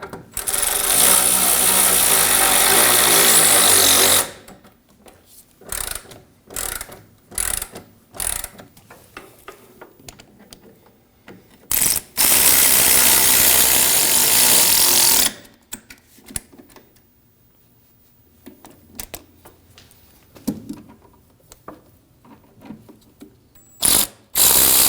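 Bolts being driven into a 2009-2014 Ford F-150 power running board, with two long loud bursts of a ratcheting power tool separated by scattered clicks and handling noises.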